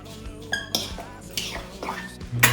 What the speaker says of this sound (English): We're going to stir this around with a fork just to kind of get this stuff mixed up.